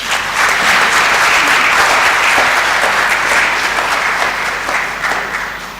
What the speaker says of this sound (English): We must give them a round of applause.